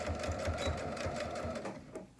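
A sewing machine double stitching a fabric mask along the side seam runs steadily and close, a continuous mechanical whir with rapid rhythmic needle thumps, slowing slightly at the end.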